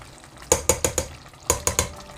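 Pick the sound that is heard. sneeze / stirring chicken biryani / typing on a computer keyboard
stirring chicken biryani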